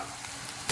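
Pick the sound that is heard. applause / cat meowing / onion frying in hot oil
onion frying in hot oil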